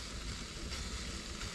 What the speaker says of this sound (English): Can't beat a bit of sizzling bacon in the morning, can you?